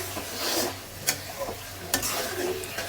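Beef tongue stir-fried with spices in a pan, giving a soft steady sizzle with a few sharp scraping clicks of a utensil against the pan, close and moderately quiet.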